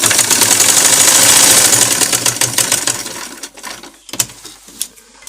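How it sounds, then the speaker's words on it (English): Sewing machine stitching in a zipper, a rapid steady mechanical whir and clatter for a few seconds before it slows and stops, leaving a few scattered clicks and taps. "As you sew, you guide it properly so that you don't go out of line."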